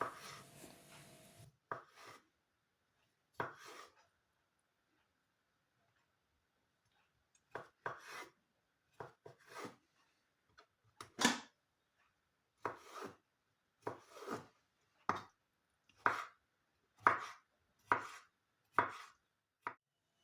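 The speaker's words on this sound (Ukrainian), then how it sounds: "беру 3 солоних огірка та нарізаю їх кубиками" Pickled cucumbers diced with a knife on a board, sharp close chopping taps, sparse at first and then a steady run of single cuts spaced about a second apart.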